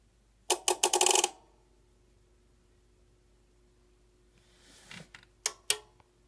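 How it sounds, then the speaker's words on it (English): A Mackie M2600 power amplifier switching on gives a quick burst of several sharp relay clicks. A few more scattered clicks follow after a pause, close and loud against a quiet background. "Let's turn it on and show you what it does. It clicks a little bit extra a few times,"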